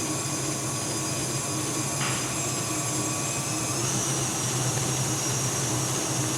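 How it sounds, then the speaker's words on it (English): A KitchenAid stand mixer on high speed with the paddle attachment creams cupcake batter of margarine, sugar and eggs, giving a loud, unbroken motor whir with a steady hum that never lets up. "we are using the paddle attachment on our KitchenAid"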